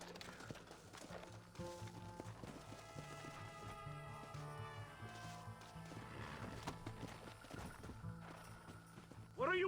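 Horse hooves clip-clopping in Red Dead Redemption, a quiet rhythmic gallop under a musical score with a brief whinny, all faint and distant before a sudden louder burst at the very end.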